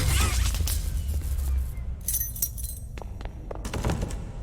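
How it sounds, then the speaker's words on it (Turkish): Metallic keys jangle and clink in short bursts over a low rumble in the video game Poppy Playtime, the rattling coming in a few separate clusters. "Demir sesi geldi anahtar."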